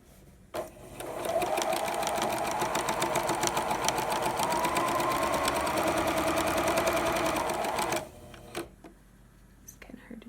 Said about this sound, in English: what I'm gonna do is just sew along the wide side right there on both sides